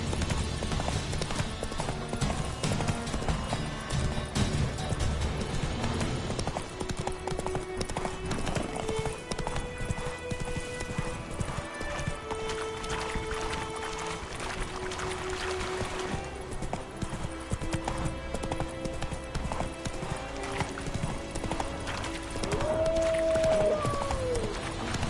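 Steady hoofbeats from Roach the horse in The Witcher 3 clop along continuously for the whole stretch, set under sustained game music with a faint neigh near the end.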